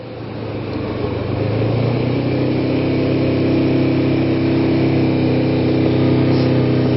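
A Kawasaki Ninja 250 motorcycle engine idles steadily and loudly around 4,000 rpm after a cold start, choke partly open, with a fast, buzzing drone that rises slightly in pitch early on, then holds even.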